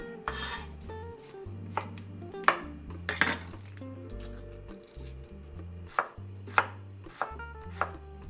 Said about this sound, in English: I'm going to remove the skin of the shallots.